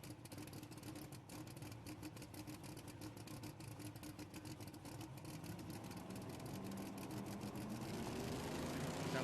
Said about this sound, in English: Sounds like we're building some boost on both sides here.